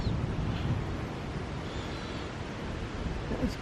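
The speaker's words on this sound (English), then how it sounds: "Making it windy." Wind roars steadily across the microphone at night outside a remote chapel, a dense, constant rushing noise with no speech over it.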